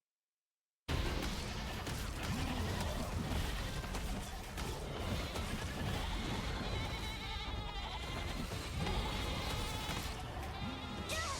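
Sheep bleat in the video game Throne and Liberty during a raid trial, set within a loud, continuous mix of combat crashes, effects and music that runs throughout the clip.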